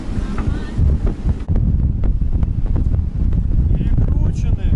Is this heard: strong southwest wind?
yes